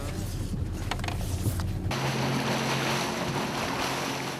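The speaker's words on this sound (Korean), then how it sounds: "여전히 높은 파도에 배를 타는 것조차 쉽지 않다" A boat pushes through rough, high sea waves with cold sea wind roaring and waves surging around it; the rushing noise shifts abruptly partway through.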